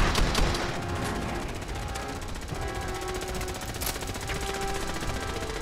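Steady, continuous rattling gunfire from a non-player character's gun firing blanks in Fallout 4, a dense unbroken stream of shots filling the whole stretch with a few louder cracks early on.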